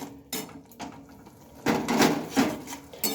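Spiced carrot mixture with salt, turmeric and a pinch of chilli powder being stirred in a pan for carrot dhoka, giving a few scattered scrapes and clatters of utensil against metal, close and moderately loud, with no talking.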